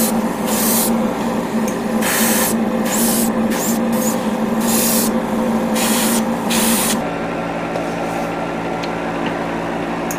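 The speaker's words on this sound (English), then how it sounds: "finished priming the parts" Spray primer hissing onto 1/144 HG Gundam G40 model kit parts in repeated short bursts of about a second each, loud and close over a steady background hum, with no talking.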